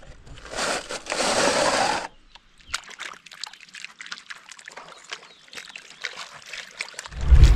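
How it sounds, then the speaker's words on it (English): Sluice mats being emptied into a gold pan with creek water at a copper and gold prospect, heard as a loud pouring splash for about two seconds, then scattered dribbles, trickles and small scrapes, ending in a heavy thump. "Let's pull those mats, put them in a pan, and see what it looks like."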